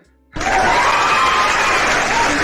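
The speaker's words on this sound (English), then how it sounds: "there's just like this loud applause sound that like blasts through your speaker as if there's like a live audience watching" A canned live-audience applause effect from a TikTok live stream cuts in suddenly after near silence and blasts loud and steady, a dense wall of clapping and crowd noise.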